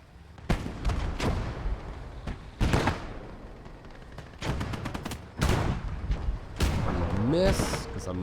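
Explosions and artillery fire in the Gates of Hell: Ostfront video game during a PvP battle, a string of heavy booms and sharp cracks at irregular intervals with rumbling decay, some near and loud, a voice speaking between them.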